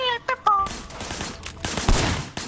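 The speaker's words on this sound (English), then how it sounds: "I want you to put some bullets in a few things." Gunfire from a PS4 video game rattles out in quick, loud bursts of shots, mixed with short in-game sounds and brief voice fragments.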